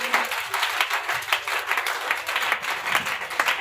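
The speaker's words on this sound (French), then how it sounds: "Acclame pour Jésus." Congregation at an evangelical Friday preaching service breaking into sustained, dense applause and clapping, a steady crowd roar of many hands lasting throughout.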